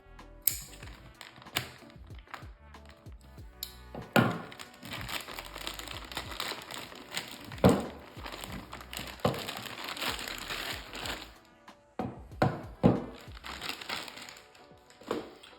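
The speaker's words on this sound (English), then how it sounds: "And then let's cut open the upper receiver." Plastic packaging around a Geissele URG-I 14.5 upper receiver crinkles and crackles as it is cut open, with sharp snips and rustling bursts at close range and no talking.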